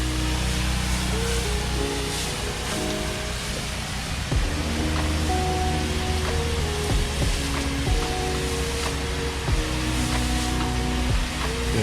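Steady broadband hiss of a water spray rinsing soap off a stucco house wall, continuous and fairly loud throughout, with faint tonal hum and occasional shifts as the stream moves along the wall near a window.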